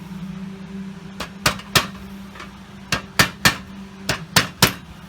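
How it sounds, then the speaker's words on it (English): A small hammer taps dents out of a metal license plate: about ten sharp, close metallic knocks, some in quick pairs, spaced irregularly over a low background hum. "We're going to tap the dents out the best we can."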